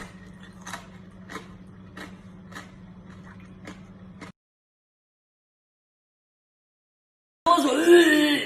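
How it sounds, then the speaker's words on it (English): Crispy pork belly crackling crunching under a knife as it is sliced: a string of sharp, evenly spaced crackles over a steady low hum, close and fairly loud, followed by silence and then a burst of other noise. "Now flip the pork and slice. Listen to that incredible crunch."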